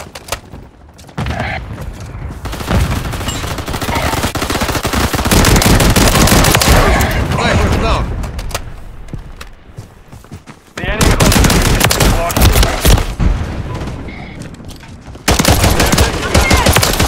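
Sustained automatic gunfire from enemies in Modern Warfare 3 multiplayer rattles loudly in long dense bursts, with brief lulls between volleys and game effects mixed in.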